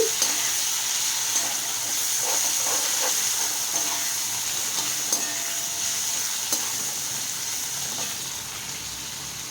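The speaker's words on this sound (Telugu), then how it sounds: "ముందుగా బీన్స్ వేసేసి ఒకసారి ఆయిల్లో బాగా మిక్స్ చేశారంటే బీన్స్ తొందరగా మగ్గిపోతుంది" Beans being stirred in hot oil for a cabbage and beans curry: a loud, continuous sizzle with repeated spatula scrapes and taps against the pan over several seconds, with no talking.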